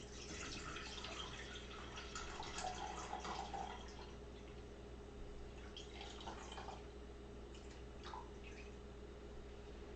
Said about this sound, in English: Then I'm going to pour in the 4 cups of apple cider.